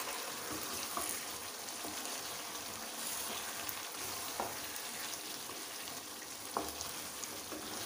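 Peshawari chicken karahi sizzling in a pan while being stirred, a steady dense frying hiss with occasional soft utensil taps, moderately close and without talk.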